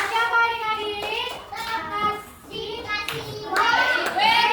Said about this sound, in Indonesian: Tepuk tangan untuk Haikal.